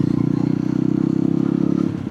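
A Yezdi Roadster 2026 motorcycle engine runs steadily in third gear while riding, giving a loud, close, continuous low throb with a fast even pulse that eases off slightly at the end.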